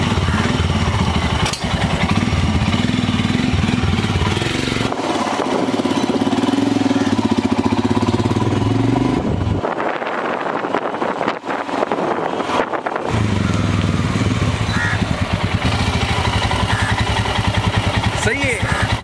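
A motorcycle ridden on the road, engine running steadily and loud throughout, with a rougher revving stretch around the middle and speech heard faintly beneath.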